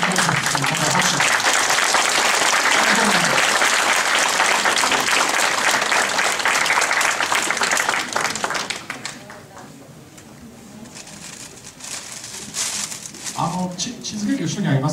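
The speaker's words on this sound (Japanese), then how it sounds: "また拍手。" An audience at a Morioka health class breaks into loud, sustained applause for the speaker, dense clapping filling the first eight seconds before thinning to scattered claps and quiet chatter.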